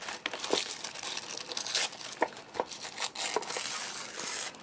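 A sheet of deli paper crinkles and rustles close up as it is handled for mixed-media stencil work, with irregular crisp crackles and small tearing-like bursts throughout.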